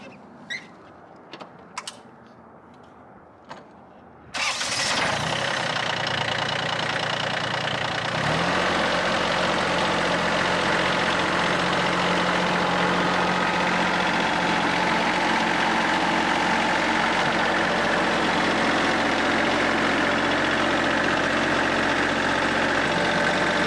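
Tractor engine starting up and idling while driving forward into a front end loader, a few faint knocks first, then a sudden loud, steady, close rumble that deepens and holds.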